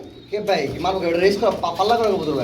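Pigeons cooing at a pigeon market, soft repeated coos mixed with nearby voices and a busy market background.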